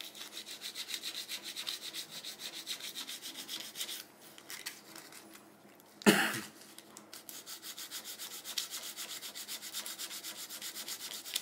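Sandpaper rubbing back and forth on a wooden model airplane part, a steady close scratchy rasp that continues throughout with a brief louder knock near the middle.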